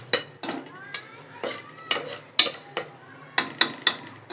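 Home kitchen clatter as pots, pans and utensils are put back in place, a series of sharp metallic clinks and knocks at an uneven pace, close and clear against a low steady background hum.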